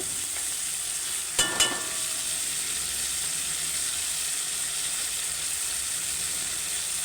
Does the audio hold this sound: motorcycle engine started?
no